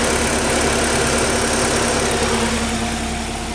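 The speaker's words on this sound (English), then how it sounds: "this engine has had the balance shafts fully deleted, so it runs rock solid" A Porsche 944 engine with MicroSquirt management and its balance shafts deleted idles steadily, a close, loud, even rumble with a constant low drone and no speech.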